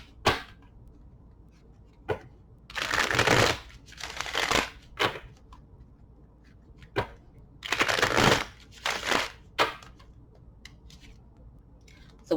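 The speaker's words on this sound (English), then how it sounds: "I'm going to shuffle 3 times and lay down 2 cards to clarify the 7 of Swords." Tarot cards are shuffled by hand in several short riffling bursts, with crisp papery flutters and soft taps between them, close and fairly clear against quiet background, no speech.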